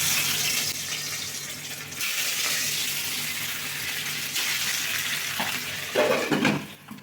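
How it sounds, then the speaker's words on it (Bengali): Boal fish frying in well-heated oil in a kadai, a loud continuous sizzle with crackling spatter that swells and briefly bursts near the end, no voices. "আর এই বোয়াল মাছ রান্না করার সময় যে কী পরিমাণে ফেটে ওঠে"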